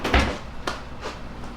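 Drawers in a Golden Nugget hotel room sliding open and shut, a loud wooden thump first, then a sharp knock and two softer bumps, close by with no talk.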